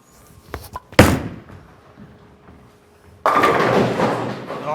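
An Outer Limits Solid bowling ball is released with a heavy thump, rolls quietly down the lane, then crashes into the pins with a loud, sustained clatter.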